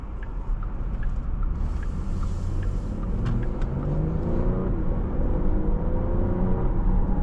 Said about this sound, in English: Nice acceleration, quick transmission.